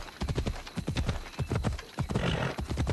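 Horse hooves clip-clop in a steady, rapid rhythm as a horse is ridden in Assassin's Creed Odyssey, loud and close with game ambience underneath.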